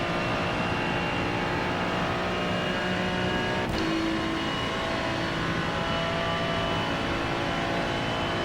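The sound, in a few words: faster class race car approaching in iRacing, a video game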